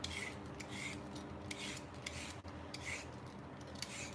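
A carrot is scraped with a vegetable peeler in a home kitchen, giving a series of short, quiet rasping strokes at an irregular rhythm, close by and with no talking.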